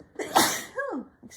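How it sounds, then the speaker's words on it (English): One close, sharp sneeze bursts out and is followed by a short vocal exhale trailing off, and a faint breath comes at the end. "I'm going to sneeze."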